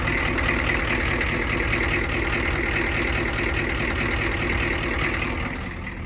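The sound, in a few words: 1985 Ford F250 6.9 IDI diesel engine idling in drive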